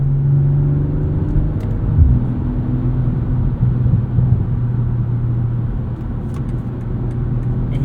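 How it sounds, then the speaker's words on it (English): A 2023 BMW M340i xDrive with its 3-liter inline-six on winter tires, a loud steady drone and rumble from inside the cabin with a low engine tone shifting in pitch. "Just can't beat the sound of this 3-liter inline-six."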